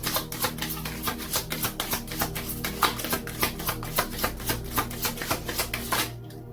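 Chakra wisdom cards are shuffled in quick, rhythmic riffles close to the mic. Each snap of the cards is sharp, and they repeat steadily for about six seconds with no talking.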